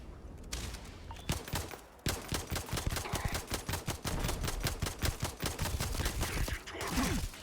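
Rapid bursts of gunfire from the Apollo 9 weapon in Starfield, a dense run of sharp, loud shots in quick succession with a brief pause early on, then sustained fire to the end.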